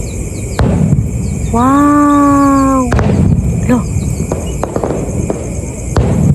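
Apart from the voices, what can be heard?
fireworks exploding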